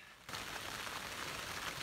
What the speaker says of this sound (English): Bloody raining now